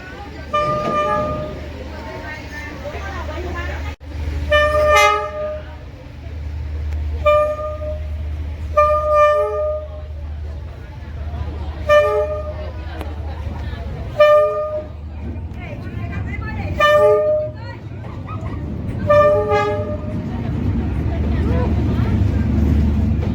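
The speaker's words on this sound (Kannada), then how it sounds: "ನೋಡ್ರಿ ಟ್ರೈನ್ ಬರ್ತಾ ಇದೆ" A locomotive horn on Hanoi's Train Street toots again and again in short, evenly spaced blasts over a low rumble that swells near the end as the engine draws closer.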